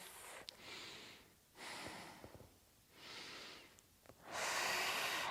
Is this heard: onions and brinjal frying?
no